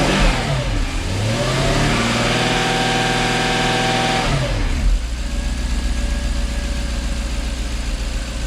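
A Jaguar XK8 engine idling around 800 rpm gets a sustained throttle blip that climbs and holds a steady drone, then drops back to a rough, even idle, loud and close with no talking.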